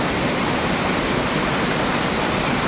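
A waterfall in Konkan pours down forcefully from a height, a loud, dense, unbroken roar of crashing water that fills the whole moment with no pauses and no voices.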